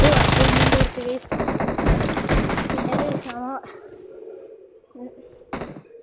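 Rapid automatic gunfire from the mobile battle royale game BGMI, loud bursts of continuous shots followed by a pause, then weapon handling clicks and a few isolated thuds in quieter game ambience.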